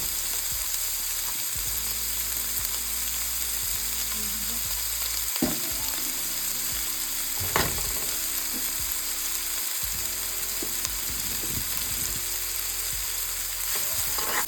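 Finely chopped onions fry and brown in a pan, a steady loud sizzle running throughout with occasional scrapes of a spoon stirring them.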